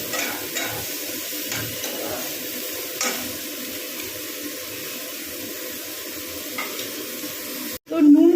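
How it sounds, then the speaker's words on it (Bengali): Onions frying over a low flame for a tuna sandwich, a steady soft sizzle with occasional stirring clicks and scrapes, fairly close and continuous, ending in a brief louder clatter. "ফ্লেমটাকে লো করে না ভাজতে থাকবে আর অল্প নুন দিয়ে দেবো যাতে পেঁয়াজটা একটু মজে যায়"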